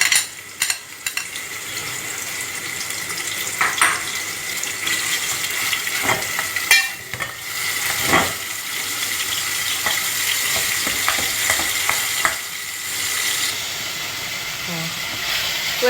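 Marinated chicken frying in oil in a pan over a medium flame, a steady sizzle and hiss with scattered stirring clatters and spatters, fairly close and continuous throughout.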